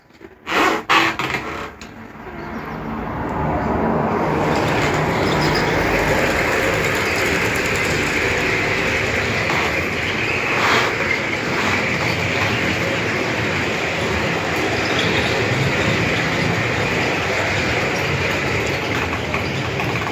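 Model SM42 diesel locomotive hauling a PolRegio passenger set along layout track, a steady rolling hum and rail clatter that holds evenly after a few handling knocks at the start.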